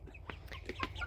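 Polish chickens cluck nearby, giving several short, soft clucks and murmurs in quick succession over a low steady hum.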